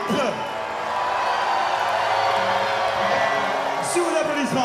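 A concert crowd at a show at Nancy Jazz Pulsations in 2011 fills the space with dense, continuous applause and cheering. A few whoops and shouts rise from the mass of clapping, which stays loud and steady throughout.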